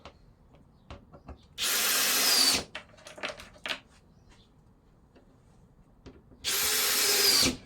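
A power drill drives screws into plywood while building a full-size Santa sleigh, two loud, close bursts of high whirring about a second each, separated by quieter clicks and handling knocks.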